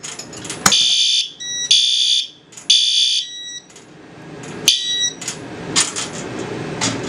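A VG2R fire alarm signal device sounding during a fire alarm system test: loud, shrill electronic tones in repeated bursts, with sharp knocks between them.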